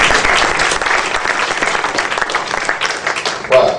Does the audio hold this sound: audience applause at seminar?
yes